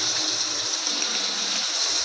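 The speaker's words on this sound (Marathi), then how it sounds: "पाणी टाकायचं." Water poured steadily into a cooking pot for a broccoli and cashew vegetable dish, a continuous close gushing stream with no break for about two seconds.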